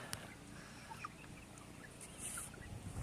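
Jersey Giant and meat chickens cluck softly in a coop, scattered short calls and chirps over a low background hum, faint and somewhat distant.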